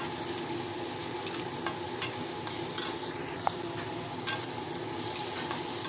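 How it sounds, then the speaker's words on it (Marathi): Okra (bhindi) sautés in a pan with a soft, steady sizzle, punctuated by occasional light scrapes and clicks of stirring, quiet and close with no talking. "चवीनुसार मस्त असं परतून घ्यायचं आहे"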